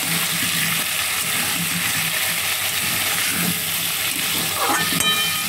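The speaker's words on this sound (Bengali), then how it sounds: "আলুটাকে আস্তে আস্তে আমি ভেজে নিচ্ছি।" Salted, turmeric-dusted potatoes frying slowly in a pan, an even, close crackling sizzle that runs steadily with a faint clink near the end.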